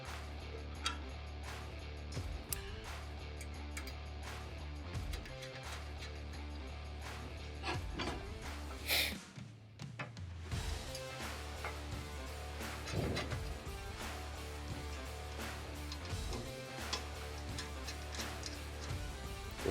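A hand ratchet snugging M6 by 25 mm bolts while mounting an Outfitter roof rack on a CFMoto UForce 1000 side-by-side, giving steady close clicking ticks in a continuous rhythm with a short pause midway.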